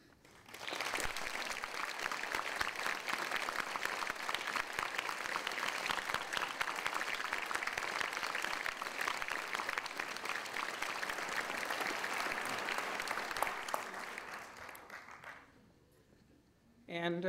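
Sustained applause from the audience at the 2014 Bush School of Government and Public Service graduation, honoring staff and administration; dense, steady clapping fills the hall for about fifteen seconds before fading out, with a voice returning at the end.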